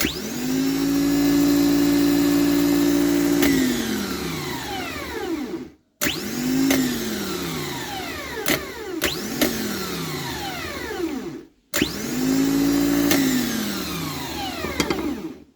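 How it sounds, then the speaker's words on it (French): Engine of a forged, turbocharged BMW E36 cranking over on a new starter motor, three loud close attempts, each a steady whirring drone that winds down before a brief pause. "Il démarre le véhicule, ça fait ça."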